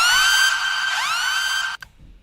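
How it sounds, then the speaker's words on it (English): A trap-style siren effect in a Brazilian phonk remix: a bright, loud electronic wail that holds steady, dips and swoops once in the middle, then cuts off abruptly with a short bang and faint residue. "And then I got the little trap siren,"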